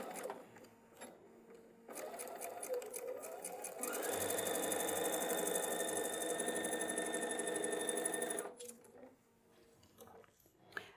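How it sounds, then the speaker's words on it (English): A sewing machine stitches a flannel changing pad seam, its motor whirring in a steady sustained run that speeds up midway, then stops, with softer handling noise before and after. "I'm going to go to the sewing machine."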